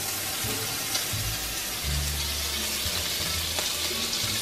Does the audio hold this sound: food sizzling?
yes